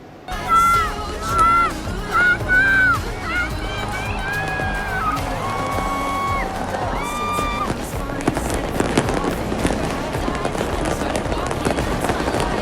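Crowd voices shout and chatter at first, then a dense crackle of popping New Year's Eve fireworks bursts continues steadily amid the noisy gathering at Bundaran Hotel Indonesia, Jakarta.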